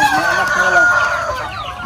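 Native chickens cluck and a rooster crows close by in a small poultry farm, forming a dense, overlapping chorus of bird calls with no pauses.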